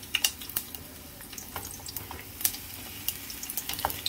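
Chopped onion dropped into a hot pan beside rice, giving a quiet frying sizzle broken by scattered sharp crackles and pops, faint and close, with no voices.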